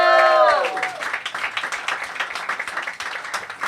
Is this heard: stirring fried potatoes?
no